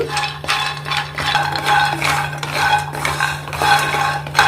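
Almonds stirred and dry-roasted in a pan over medium flame, a rhythmic series of dry rattling scrapes and clinks of the spoon against the metal, close and fairly loud, no voices.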